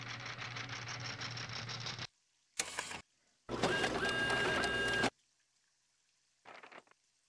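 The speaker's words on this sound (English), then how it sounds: "I personally love the printer noises." Printer noises from the Nancy Drew Danger By Design video game: separate bursts of whirring, clattering mechanical printing, a long steady run, then a short burst and a faint final one, with silent gaps between.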